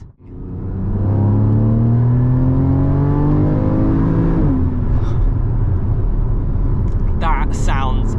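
A Porsche 981 Cayman GTS engine accelerates hard on the road, its loud rising roar climbing through the revs before a gear change drops the pitch, then keeps pulling; a voice briefly speaks near the end.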